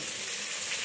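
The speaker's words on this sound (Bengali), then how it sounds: "হাই ফ্লেমে পেঁয়াজগুলো সুন্দর করে ভেজে নেব।" Onions frying in a pan over high flame, a dense continuous sizzle that stays loud and even throughout this short moment, with no voices.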